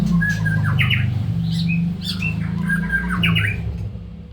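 A white-rumped shama (murai batu), a long-tailed competition songbird, calls in clear, close, loud whistled phrases and sharp squawks repeated several times over a steady low hum.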